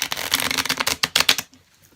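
Tarot cards being shuffled by hand before a Celtic cross reading, a dense run of close, crisp riffling and flicking bursts for about a second and a half before stopping.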